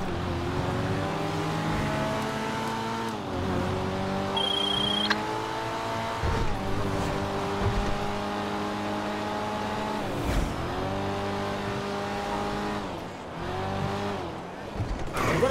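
In GTA V, an Annis 300R, a Nissan Z-based car, revs and accelerates repeatedly, its engine note climbing through gears in rising sweeps, with tire squeals and brief drops between pulls, loud and close throughout.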